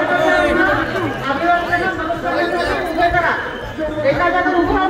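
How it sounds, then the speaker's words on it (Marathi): Dense crowd chatter at the Bhima Koregaon gathering in the morning, with many voices talking over one another close by and no single speaker standing out. "गर्दी कमी आहे तरी सकाळी आलो आम्ही, त्यामुळे गर्दी कमी आहे."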